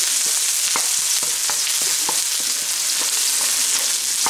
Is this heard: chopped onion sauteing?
yes